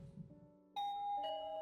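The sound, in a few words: doorbell ringing, from a video game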